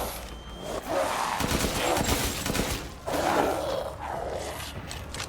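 Sustained bursts of gunfire in the Resident Evil Village finale fight against Mother Miranda, loud and dense, arriving in two long volleys with brief dips between them.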